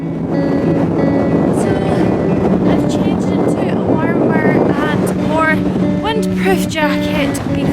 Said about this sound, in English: it is just stupidly windy